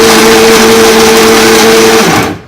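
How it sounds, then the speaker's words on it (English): Close and loud, a blender whirs steadily on black bean brownie batter with baking soda, holding one even motor drone before spinning down and cutting off at the end. "And then we'll blend that up."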